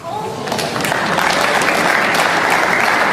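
Spectators at the Northern Ireland Open snooker match applaud a century break, loud sustained clapping that swells within the first second and holds steady, with a commentator's voice faintly underneath.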